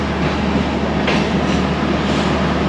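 Passenger train running as heard from inside the last coach, beside the guard, while approaching a station platform: a steady, close rumble of wheels and carriage noise throughout, with a brief brighter swell midway.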